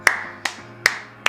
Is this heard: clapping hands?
yes